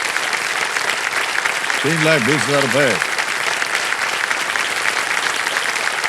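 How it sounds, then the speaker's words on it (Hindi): A game show studio audience claps steadily throughout, a dense even applause, while a voice briefly speaks over it in the middle. "तालियां बजती रहे इनके लिए।"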